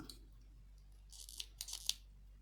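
Scissors snipping through crochet yarn while working on an amigurumi Halloween pumpkin, a few quiet crisp snips clustered near the end after near silence.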